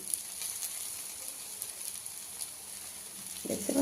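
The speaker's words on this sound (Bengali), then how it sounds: "তো চলো একটু হালকা ব্রাউনিশ করে ভেজে নিচ্ছি" Egg paratha frying in a pan, a faint steady sizzle running throughout with a brief louder clatter near the end.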